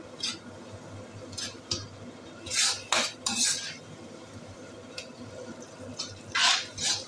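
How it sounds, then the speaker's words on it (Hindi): A spoon clinks and scrapes in a pan as a spiced masala mixture is stirred in with fried onion and tomato for a kofta curry, in soft irregular strokes with a few louder metallic knocks and no talk. "इसमें मसाले वाला घोल डाल देते हैं और इसको चलाते हैं अच्छी तरह"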